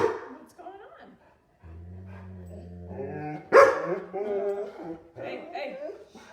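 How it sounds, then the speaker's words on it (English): Dogs bark and yip in short bursts partway through, mixed with whimpers and a voice speaking nearby. "Hey, Ryder, can you let out the dogs?"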